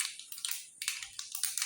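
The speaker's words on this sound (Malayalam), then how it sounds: "കടുക് പൊട്ടുന്നുണ്ട്" Mustard seeds spluttering in two spoons of hot oil, a run of sharp crackling pops in quick irregular bursts, close and fairly loud, with no voices.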